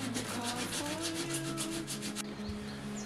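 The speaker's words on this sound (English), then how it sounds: "I'm going to sand it a little bit, so that's what I'm doing right now" Plastic being sanded by hand under a caravan skylight: quick, rhythmic rubbing strokes, close and fairly soft, with a short pause near the end.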